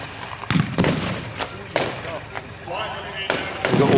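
Sharp bangs and thuds of simulated battlefield explosions go off at irregular intervals, some near and some farther away, while voices carry on in the background, at an outdoor tank battle reenactment.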